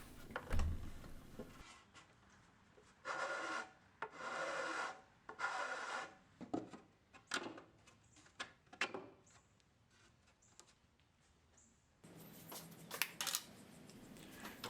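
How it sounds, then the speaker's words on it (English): A hand file rasps against the notched edge of a wooden board for a potting bench, several short scraping strokes in irregular bursts with quiet pauses between, close and fairly soft. "then I'll use a file to hone it in"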